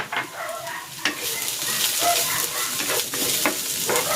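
Garlic and lemongrass sautéing in a hot pan, a loud steady sizzle with sharp stirring scrapes and clanks recurring at irregular intervals, close up and without talking.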